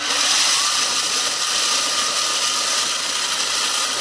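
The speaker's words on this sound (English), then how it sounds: "So let me plug this thing up here and we'll go into this and we're gonna grind some corn malt." An electric grain mill grinds corn malt with a steady, loud, broadband whir and grinding hiss that runs unbroken and close throughout, with no talking.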